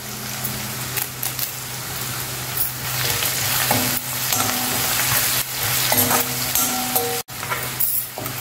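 Curry leaves hit hot oil with onions and asafoetida while preparing a gongura chutney with ripe red chillies, giving a loud steady sizzle with spatula scrapes and clinks against the pan and a low hum in the background.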